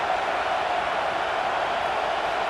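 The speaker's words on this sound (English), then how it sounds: "Big third down as the crowd gets behind this defense." A football stadium crowd at Clemson roars steadily through a big third-down play against Virginia, a dense, sustained wall of cheering with no breaks.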